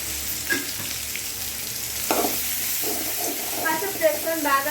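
Onions sizzle and fry steadily in a pan as they are stirred for a home-cooked dish, with occasional scraping strokes of the spoon and a louder bubbling crackle toward the end.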